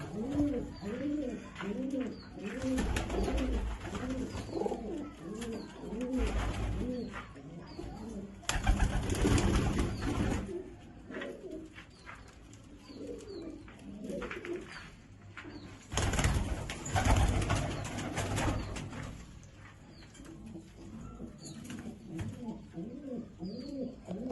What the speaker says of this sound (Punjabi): ਇਹ ਕਬੂਤਰ ਹੈ ਜੀ ਆਪਣਾ ਅੰਨਾ ਕਬੂਤਰ ਹੈ